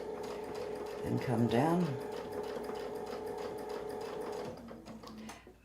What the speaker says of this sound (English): We'll keep sewing across.